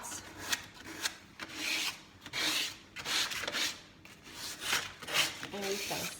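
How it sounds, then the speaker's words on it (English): Hand sanding of rough spots on wooden furniture before a milk paint finish, a steady series of close raspy back-and-forth strokes in an irregular rhythm, with no talk over it. "And we're just gonna sand that off, get in the little pieces there."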